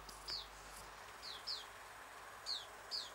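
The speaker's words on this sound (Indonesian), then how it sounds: "Ada suara ayam, suara burung bapak gua itu" Birds chirp in short bright tweets, five calls spaced across a quiet background, somewhat distant; no clear chicken sound stands out.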